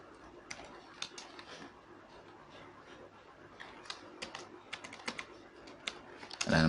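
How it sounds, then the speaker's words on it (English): Someone types an email address on a computer keyboard, producing close, quick bursts of light key clicks in uneven runs with short pauses between them and a louder clatter at the end. "Okay, so I'll type my email."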